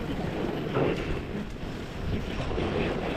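Heavy wind at a winter forest camp during an icy storm, a continuous rough roar with gusty swells and buffeting against the microphone, loud and steady throughout.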